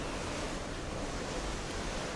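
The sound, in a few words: sea waves heard from a boat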